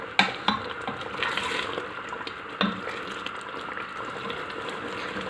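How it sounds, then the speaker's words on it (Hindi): A spoon scrapes and clicks against a pot of thickening dal with kulfa greens over a steady bubbling simmer, with a couple of sharper knocks standing out. "थिक होने तक मैं इसको पका रही हूँ। साथ साथ चम्मच चलाती जा रही हूँ"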